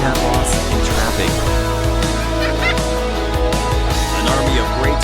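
Thick-billed parrots, an endangered species native to the highland forests of Mexico, call loudly and repeatedly in a dense, overlapping flock chorus that runs without pause throughout.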